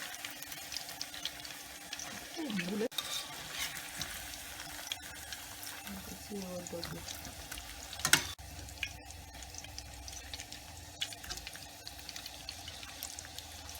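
Hot dogs fry in a pan with a steady, noisy sizzle. A few scrapes and clatters of stirring sound through it, and no one speaks.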